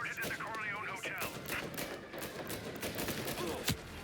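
Bursts of gunfire from the video game Mafia Definitive Edition during a shootout at a hotel, rapid and loud, cracking repeatedly over game voices and music, with a sharp hit near the end.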